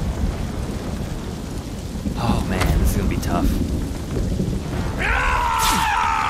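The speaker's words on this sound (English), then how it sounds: "It's a raging fire and a thunderstorm at the same time." Thunderstorm with heavy rain and a raging fire in the samurai action game Ghost of Tsushima: a steady roar of rain and crackling fire, with thunder rumbles and bright bursts, while someone talks over it.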